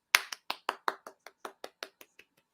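A voice-free imitation of a polite golf clap: about a dozen light, sharp claps in a steady, slightly slowing rhythm, close and crisp, fading softer toward the end.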